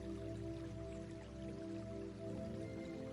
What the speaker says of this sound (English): you can hear the sound of trickling water. It sounds like a creek that is finding its way through the forest.